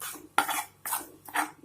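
Onion paste frying in a pan as a spoon scrapes and stirs through it, three quick scraping strokes with short pauses between them, close and clear with no talk.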